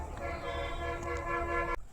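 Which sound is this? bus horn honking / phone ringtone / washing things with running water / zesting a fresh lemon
bus horn honking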